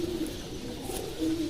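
A Teddy breeder pigeon gives a soft, low, steady coo that runs unbroken and close for just over a second.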